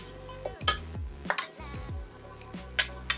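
A spoon scrapes and clinks against a pot while flour is stirred into a roux for copycat Panera mac and cheese, with intermittent metallic taps over a steady background.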